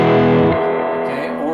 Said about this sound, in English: That's one level of distortion.